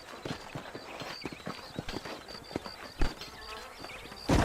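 Horse hooves clip-clopping on the ground in the video game Red Dead Redemption, a steady trotting rhythm of distinct hoof beats with faint background ambience and a louder thump near the end.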